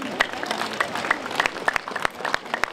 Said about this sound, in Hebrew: Конечно, он заслуживает ваших аплодисментов.